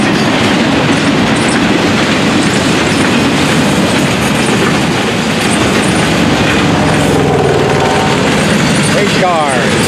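An FEC freight train with auto racks rolls past close by, giving a dense, continuous rush of wheel and car noise with clickety-clack and faint squealing near the end, loud and steady throughout.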